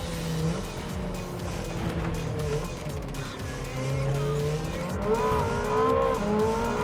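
A 2019 Ferrari F8 Tributo racing in Gran Turismo 7, its engine revving with rising and falling tones as the tyres squeal and skid through corners, sustained and fairly close.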